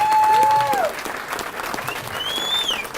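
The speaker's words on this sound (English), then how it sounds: "You deserve a round of applause." Applause from the crowd for the cooks at a Wounded Warriors fundraiser luncheon, steady clapping throughout with a few faint whistles over it.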